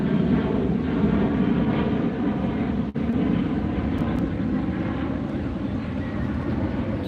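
An airliner bound for Seattle at LAX gives off a steady, loud jet engine roar with a low rumbling core, sustained throughout apart from one brief dropout.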